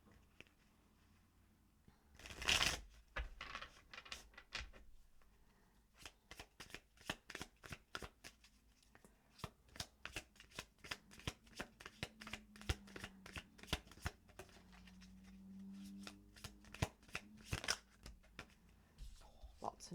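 Tarot cards are shuffled by hand in a quiet room, with a loud riffle near the start followed by many soft, uneven flicks and taps of the deck.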